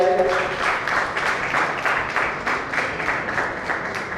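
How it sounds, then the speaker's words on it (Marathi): Applause at a housing society meeting in Chembur, a moderate, even patter of many hands clapping continuously, with a brief voice at the very start. "जोरदार टाळ्यांनी स्वागत होऊन जाऊ दे, टाळ्या वाजत राहू दे"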